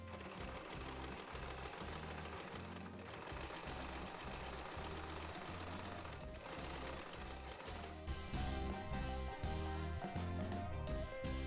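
A sewing machine hems plastic with bias tape in one continuous rapid rhythmic whir, close and steady, speeding up slightly near the end, with no talking.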